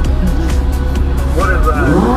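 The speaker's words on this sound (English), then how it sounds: "Come on, rev it up, man." A Lamborghini Huracan supercar engine drones steadily on a city street, with rising rev sweeps, while people talk close by.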